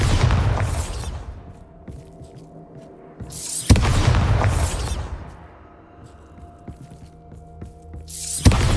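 Bombarda spell blasts in the video game Hogwarts Legacy, two loud booming explosions a few seconds apart, each a broad crashing burst that fades into a low rumbling tail with quieter hum between.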